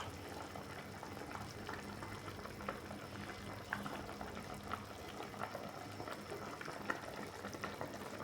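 Fish sinigang with moringa and pumpkin tops simmering in a pot, a steady close bubbling with small irregular pops throughout, no voices.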